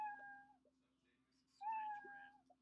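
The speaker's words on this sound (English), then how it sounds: "These are your four cats." Two cartoonish cat meows from a Scratch game project, one short and one longer, ring out clearly over a steady low electronic hum, with faint clicks between them.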